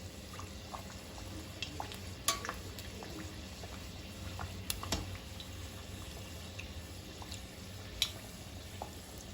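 Bokit dough fries in hot oil and is basted as it cooks, a dense low bubbling hiss with scattered sharp pops and crackles running steadily throughout, fairly quiet and with no talk.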